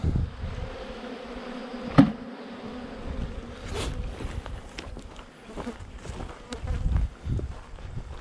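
Busy buzzing of a drone-laying honeybee colony, fairly close, with a few soft knocks and footstep-like rustles mixed in.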